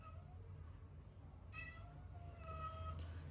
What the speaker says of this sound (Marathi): मांजर आलेली आहे